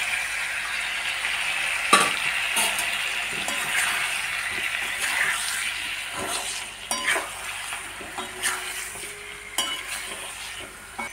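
Potatoes and eggs fry in a spiced curry in a pan, a steady bright sizzle broken by several scraping stirs and knocks of a spoon against the pan.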